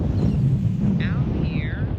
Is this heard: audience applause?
no